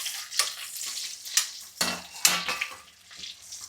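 Whole spices, among them cardamom, cloves and star anise, frying in hot oil in a pan for a cashew curry, heard as a soft sizzle broken by several sharp clinks and scrapes of a utensil stirring, close up and without talk.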